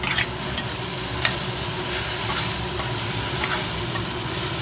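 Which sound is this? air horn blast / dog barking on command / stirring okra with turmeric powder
stirring okra with turmeric powder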